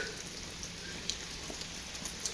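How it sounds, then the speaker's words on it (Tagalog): Heavy rain pours steadily in Italy, a dense constant hiss of drops striking surfaces with occasional sharper splashes, with no voices. "Ang lakas ang ulan."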